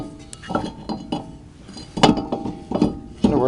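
Metal brake rotor slid onto a car's front wheel hub during a brake upgrade, giving several sharp metallic clinks and knocks spaced irregularly, close and fairly loud, with no talking.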